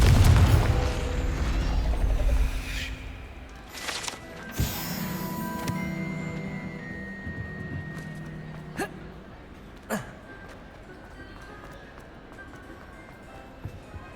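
A Confringo blast spell in Hogwarts Legacy sets off a heavy boom at the start, followed by rumbling ambience and scattered sharp pops and impacts over the following seconds.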